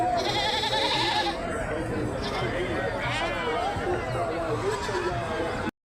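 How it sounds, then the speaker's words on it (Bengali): Goats bleat repeatedly amid the busy bustle of a large weekly goat market at Golakandail, with people talking close by throughout. "বিশাল বড় ছাগল, বিশাল বড়।"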